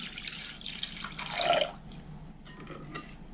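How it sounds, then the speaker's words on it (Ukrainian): Warm, rich homemade milk, boiled and cooled, poured onto yeast and sugar, giving a soft, close liquid splashing and trickling that swells briefly and then fades into quieter drips, without any talking. "До дріжджів з цукром додаю тепленьке молочко."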